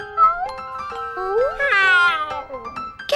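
A cat meows in a drawn-out, rising and falling cry with a few shorter calls around it, close and fairly loud, with no talk.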